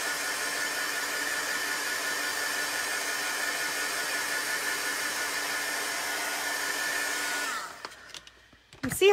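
A hair dryer blows steadily on chalk paste for about seven seconds, a loud, even whoosh with a constant motor whine, then cuts off, followed by a few faint handling sounds.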